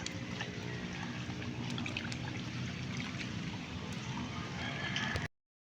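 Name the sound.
flowing river water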